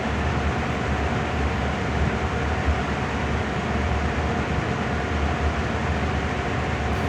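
A freight train running in Train Sim World, a continuous loud rolling rumble with steady wheel-on-rail noise throughout, no talk.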